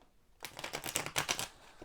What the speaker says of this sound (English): I never used to shuffle on camera, but I do now